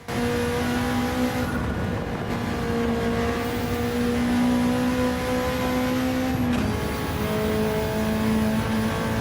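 A replacement engine for the K20 and K24 in Gran Turismo 7 holds a loud, steady, buzzing drone at nearly constant pitch, with a brief dip and shift partway through and no voices.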